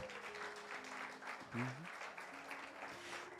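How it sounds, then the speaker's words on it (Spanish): A church congregation applauds during an evangelist's sermon, a steady crowd of clapping with voices calling out and a brief shout rising above it midway. "Dele un aplauso al Señor"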